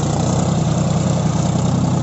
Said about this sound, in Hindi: जैसे ही फोर व्हील ऑन किया है देख सकते हैं आप स्पीड ट्रैक्टर की कितने अच्छे से बढ़ रहा है